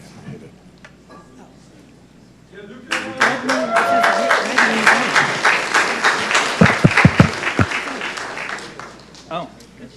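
Applause and clapping for Luca at a Montgomery County Commissioners meeting, starting after a quiet stretch with talk and swelling into a steady, fairly loud burst of many hands that tapers near the end.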